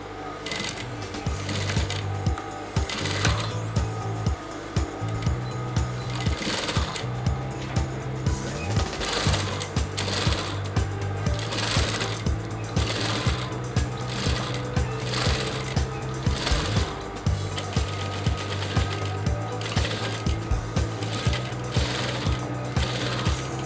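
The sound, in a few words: sewing machine stitching along cap interfacing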